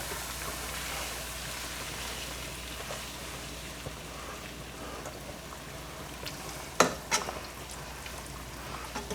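About 1.5 to 2 pounds of shrimp fry in a pan for a garlic and shallot scampi-style pasta, giving a continuous soft sizzle with a couple of sharper crackles and clatters near the end.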